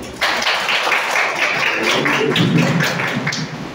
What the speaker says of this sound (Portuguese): Palmas para a equipe.